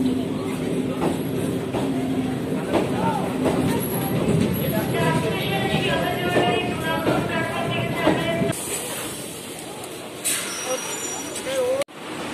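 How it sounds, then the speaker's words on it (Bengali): A passenger train pulls away and runs along, heard from inside the carriage as a steady rumble and rattle with brake hiss, while people talk over it and a sharp clunk comes near the end. "এই যে ট্রেনে উঠে পড়েছি, এখন ট্রেন ছেড়ে দিয়েছে।"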